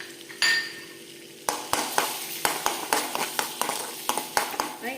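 Ginger and garlic fry in hot sunflower oil in a pan, a soft sizzle underneath sharp, rhythmic clinks and scrapes of a utensil stirring against the metal, close and fairly loud.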